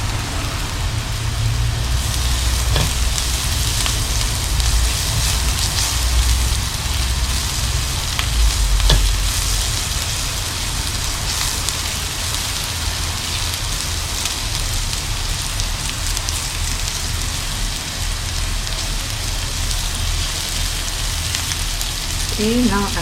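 Garlic sizzles and crackles steadily in a hot pan for a pork stir fry with rice vermicelli, a dense rain-like hiss that stays loud and constant throughout.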